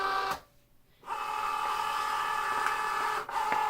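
Cricut cutting machine drawing in a sheet of Smart Vinyl Permanent and measuring it, a steady close mechanical whir and hum with a short pause and a brief dip near the end.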